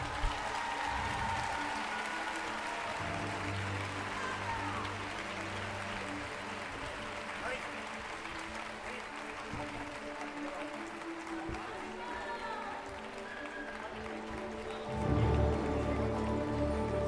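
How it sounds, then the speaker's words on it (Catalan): Audience clapping fills a school end-of-year party, a steady sustained applause with crowd murmur that swells louder near the end, with a voice speaking over it at times. "Vinga, va, més fort aquest aplaudiment"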